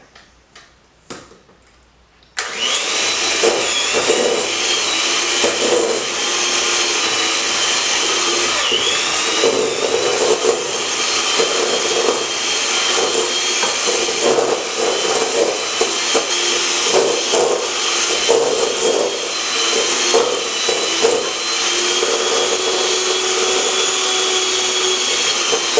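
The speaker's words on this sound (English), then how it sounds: "And we're going to cream that until it's smooth and creamy." An electric mixer creaming butter with two cups of granulated sugar for a lime poke cake, starting after a few handling taps and then running as a steady, loud whirring drone with slight rattling throughout.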